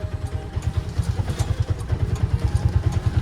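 A 2024 Piaggio Ape City NXT Plus BS6 three-wheeler engine runs steadily nearby, a low rhythmic thudding pulse with light mechanical clatter and no voices.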